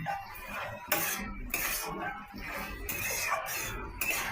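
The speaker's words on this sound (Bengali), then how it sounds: "এবার ঢেলে নিচ্ছি তরকারিটা।" Cooked bhindi (okra) curry is tipped out of a pan after the gas is turned off, with a spoon scraping and clinking against the metal in short, irregular bursts, close and fairly quiet.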